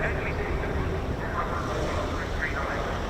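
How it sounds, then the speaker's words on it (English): A Fiat G.91 jet flies past at an air show, its broad engine roar steady and fairly loud, with crowd or commentary voices mixed in underneath. "It's the G.91."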